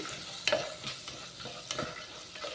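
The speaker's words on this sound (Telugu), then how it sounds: "చేసుకున్న క్యారెట్లు ఉన్నాయి కదండి ఇందులో వేసేసుకుంటున్నాను బాగా అవనివ్వాలండి ఇవి" Chopped carrots frying in oil in a pan for pesara pappu charu give a soft, continuous sizzle. Two sharper clinks from a stirring spoon stand out, and lighter scrapes follow.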